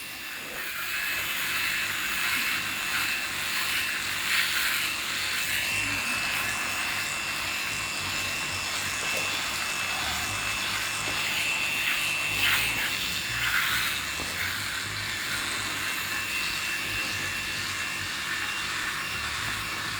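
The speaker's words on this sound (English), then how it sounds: "I'm just going to put the shaver straight onto the turbo" A Remington RX7 electric shaver on its turbo setting buzzes steadily at high speed, its whirring pitch rising and falling slightly as it moves, running continuously without any speech.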